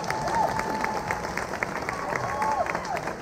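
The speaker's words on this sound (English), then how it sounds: "Everyone clap." A luau crowd at the Hale Koa Hotel in Hawaii claps together in a soft, continuous patter heard from some distance, with a faint tonal sound rising and falling over the applause.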